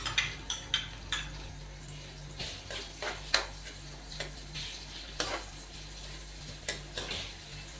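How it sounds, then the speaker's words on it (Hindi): Finely chopped onions fry in oil in a pan for a chicken biryani, a soft continuous sizzle broken by repeated sharp ticks and clicks of a spoon stirring against the pan. "तो प्याज को हम तकरीबन लाइट ब्राउन होने तक फ्राई करेंगे।"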